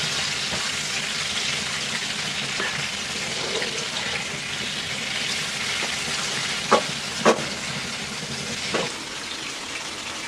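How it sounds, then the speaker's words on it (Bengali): Hilsa fish frying in oil, a steady close sizzle running throughout, with a few sharp knocks of a utensil against the pan near the end. "মাছগুলি ভাজা হয়ে গেছে, এখন আমি নামাই ফেলবো।"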